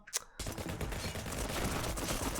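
Sustained automatic gunfire sprays continuously in the Ninja Simulator video game, a dense, loud rattle of rapid shots that follows a brief isolated burst at the start.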